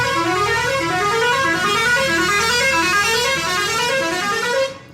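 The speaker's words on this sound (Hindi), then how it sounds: "जब भी टाइम में आएगा यहाँ से हॉर्न बजाएगा वहाँ तक बजाएगा।" A bus or car horn honks outside in a long, continuous blare of repeated rising tones, loud and steady throughout before cutting off at the end, with no talk over it.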